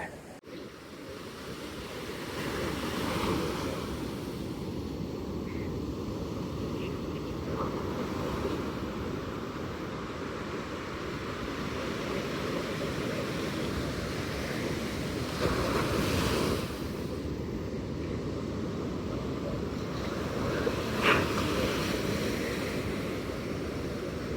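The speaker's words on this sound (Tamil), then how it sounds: "அலைக்கடல் வேறு, இந்த அலைகளை பார்த்துட்டு இருக்கு நல்லா தான் இருக்கு" Ocean waves breaking on a shore beside a port, a continuous loud rolling surf with periodic swells, heavy wind buffeting the microphone throughout, and no clear talking.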